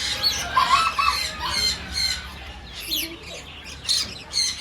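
Pet macaws in a home aviary squawk repeatedly in harsh, raspy bursts at close range, the calls coming in an irregular rhythm with other birds faintly chirping behind.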